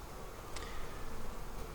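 Honey bees buzz in an open beehive during a frame inspection, a soft continuous droning hum with a few brief ticks, fairly faint and close.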